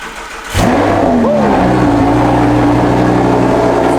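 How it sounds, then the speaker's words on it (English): A four-wheel-drive Lamborghini's engine fires up after a brief quiet moment, then settles into a loud, steady roar close by, with a short rising rev as it catches. "Let's hop in and start this thing up."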